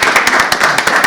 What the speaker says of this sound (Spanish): Agradecer a estos 5 magníficos ponentes que hayan estado aquí con nosotros, por ejemplo, con un aplauso, si os parece.